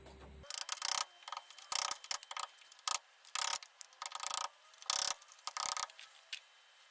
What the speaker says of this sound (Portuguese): Vou pegar aqui uma chave de fenda e vou bater ela para dentro.